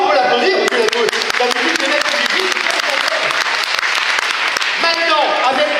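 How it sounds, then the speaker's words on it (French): An audience at a French magic show bursts into sharp, dense clapping after a close-up trick with paper balls, with sustained loud applause and a performer speaking over it briefly at the start and near the end. "Bravo, on peut l'applaudir."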